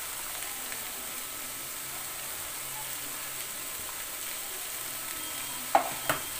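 Green chilies, carrots and spring onions being stir-fried for fried rice, a soft continuous sizzle in the background with two sharp utensil clinks near the end.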